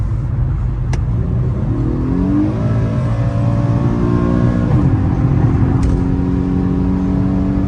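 Infiniti G37 with a muffler delete revving hard during a pull, a loud, continuous engine roar with rising and falling pitch sweeps over several seconds, close to the car.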